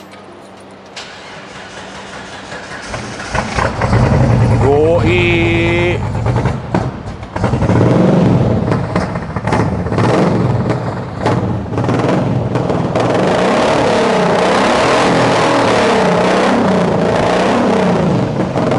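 Six-cylinder engine of a fully restored, rare International Scout cranking and catching, then settling into a loud, close rumbling idle with blips of revving, and a voice briefly heard near the start.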